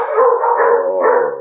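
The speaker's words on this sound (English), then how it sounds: "that dog, it only barks when I talk" A dog barks in a drawn-out, howling bark that rises and dips over about a second and a half, loud and close, with no talk around it.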